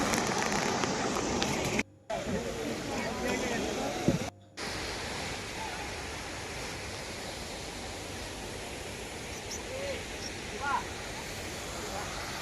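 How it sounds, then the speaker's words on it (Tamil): A steady rushing roar of the Hogenakkal waterfall fills the whole stretch, broad and constant, with two brief dropouts near the start. "அந்த அருவியோட சவுண்டு"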